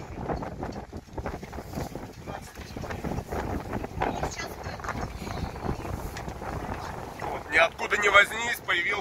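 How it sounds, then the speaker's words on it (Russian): Strong wind buffets and roars on an anchored yacht, rocking it and gusting unevenly while people talk underneath. "Ниоткуда не возьмись, появился вот такой сильный ветер. Пока стоим, раскачивает."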